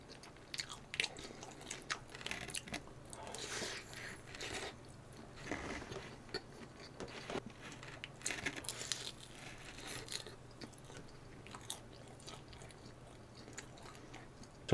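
Close, crisp chewing and biting of pizza dough repeats steadily over a low background hum, with occasional crunchy bursts and no talking.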